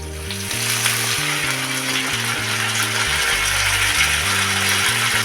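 Curry leaves and shallots sauté in a hot pan with a steady, bright sizzle and crackle throughout, over low background music, with no talking.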